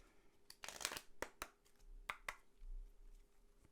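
Playing cards being handled and drawn after shuffling, a few quick close riffling and snapping bursts with soft taps between them in a quiet room.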